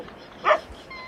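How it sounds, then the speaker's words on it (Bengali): A single short dog bark, sharp and moderately close, rising briefly out of a quiet background. "কুকুরের আওয়াজ"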